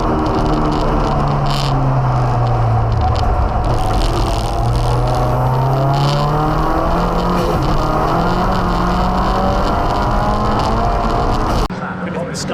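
An Audi race car accelerating hard on a damp circuit during a race, its engine note loud and sustained throughout and rising and falling in pitch, with other cars close by.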